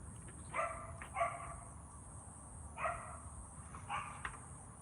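Dogs at a rural Thai village home in the evening bark at passersby, a handful of short barks in scattered pairs, faint and distant over a steady background hiss.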